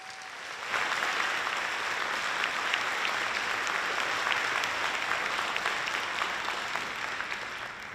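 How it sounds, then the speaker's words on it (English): Audience applause for District Honor Band members at a Heritage High School spring band concert: a dense, steady wash of many hands clapping, beginning abruptly and holding loud and even throughout. "Please give a round of applause to these District Honor Band members."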